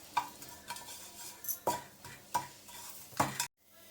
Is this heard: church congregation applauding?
no